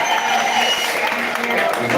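Applause from an audience at a ceremony welcoming a guest, Mzee Kamau, a dense continuous clatter of many hands clapping, loud and steady for the whole stretch.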